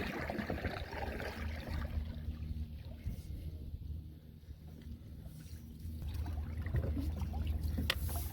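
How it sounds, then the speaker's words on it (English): A canoe is paddled across lagoon water, with soft water swishes and low rumble under steady outdoor ambience and light wind, without talk. "We've been paddling about 15 minutes now, I think."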